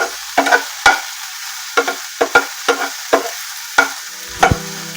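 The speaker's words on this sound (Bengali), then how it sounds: "ক্যাপসিকামটা ততক্ষণই ভাজবেন যখন গন্ধটা বেরোবে ক্যাপসিকাম ভাজার" Capsicum frying in a pan while being stirred, a series of sharp spatula clacks and scrapes at uneven intervals over a soft sizzle, close and fairly loud, without speech.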